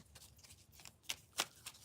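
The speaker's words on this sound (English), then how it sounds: "Hold on, we gonna keep shuffling." Tarot cards are shuffled during a horoscope reading, with a run of soft riffling and sharper flicks and snaps that peak in a few crisp bursts, close up and fairly quiet.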